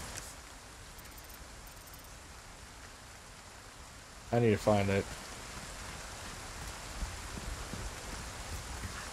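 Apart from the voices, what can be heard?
rain in the video game Resident Evil 4 Remake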